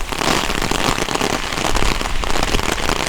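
Heavy rain and hail drum hard on an umbrella in a Bulgarian village, a dense, loud, steady crackling patter that fills the whole clip without a break.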